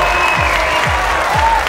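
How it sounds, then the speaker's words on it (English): Brief burst of audience applause for beauty pageant contestants at a Miss Arab USA event, filling the moment with dense clapping while a few tonal sounds from the stage system sit underneath. "Let's give a round of applause to the Miss Arab USA"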